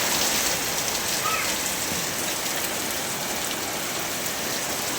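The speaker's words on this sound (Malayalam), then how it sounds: "ഇനി നല്ല മഴയാണ് കേട്ടോ." Heavy rain falls in a steady, dense wash of noise at an even level for five seconds, with no voices.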